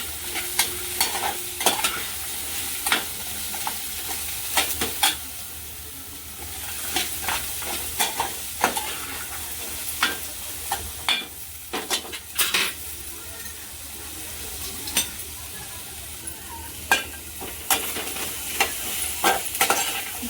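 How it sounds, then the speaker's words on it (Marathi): Garlic cloves and green chillies roast in oil in a pan for amla chutney, a steady close sizzle broken by frequent sharp clinks and scrapes of a spoon stirring against the metal pan. "लसूण पण छान या तेलामध्ये आपण परतून घेतलं आहे मिरची पण छान परतून घेतली"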